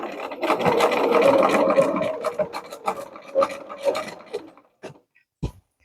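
A sewing machine runs in reverse along a pillowcase seam, a busy raspy whir of rapid stitching for several seconds that slows, then stops with a few faint clicks and a soft final knock.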